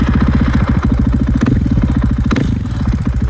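A Husqvarna big-bore single-cylinder motorcycle engine fires up and settles into a loud, steady, close-up thumping idle, its lumpy rhythm continuing alone throughout.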